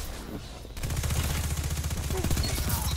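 Rapid gunfire in Destiny 2 during a 6v6 Iron Banner match, a close, loud automatic burst of evenly spaced shots starting abruptly after a quiet moment.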